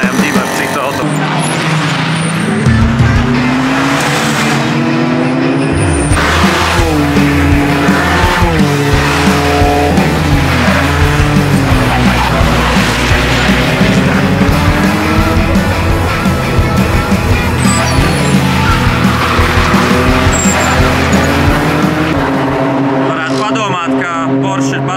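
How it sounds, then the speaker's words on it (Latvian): Touring race cars at a BaTCC race drive out together, with engines revving and gear changes rising and falling close by, continuous and loud, while a commentator talks over them. "Visi auto brauc ārā."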